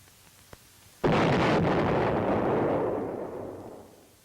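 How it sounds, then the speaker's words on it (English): Artillery or high-angle weapon fire blasts a tunnel entrance, a single loud explosion bursting in suddenly and rumbling on as a long, slowly fading roar. "unit commanders may call in artillery or high-angle weapons to demolish tunnel entrances"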